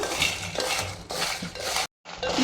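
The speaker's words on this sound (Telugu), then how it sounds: "మధ్య మధ్యలో ఇట్లా కలపాలి మాడిపోకుండా ఉండడానికి" Peanuts stirred while dry-roasting in a pan for a spicy ivy gourd masala curry, a steady rattling scrape with a brief pause near the end, close and alone.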